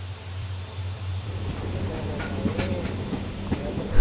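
Freight cars rolling along rails in a railyard, a low steady rumble with rhythmic clicks and clunks from the wheels, growing slightly busier and louder toward the end.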